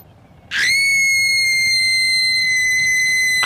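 A voice imitates a scream with one sudden, very loud, piercing shriek that holds at a steady pitch for about three seconds, close and alone.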